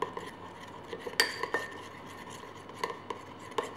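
A spoon stirs a lemon juice mixture in a bowl for a homemade skin-whitening preparation, giving light, irregular clinks and scrapes of metal against the dish with quiet pauses between strokes.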